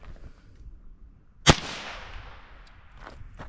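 A single sharp gunshot from a Ruger 10/22 Takedown .22 rifle cracks at close range, followed by a short fading echo, with quiet background before and after.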